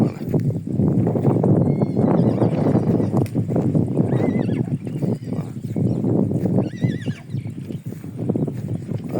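Surxondaryo horses by water, dense loud activity of hooves and movement with a couple of brief whinnies partway through, over a continuous low hum and some voices.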